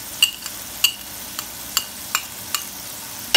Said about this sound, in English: We're gonna go in with these onions and we're gonna caramelize our onions.